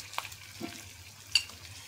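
Onions and tomatoes frying in a pan for chicken tikka masala, a quiet sizzle with soft stirring scrapes and a brief clink of a utensil, no talking.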